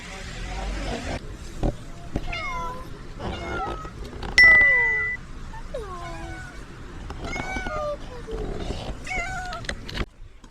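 A street cat in Taiwan meows again and again in short rising and falling calls over steady outdoor background noise, fairly close, with a loud click partway through.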